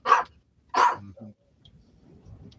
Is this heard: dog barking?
yes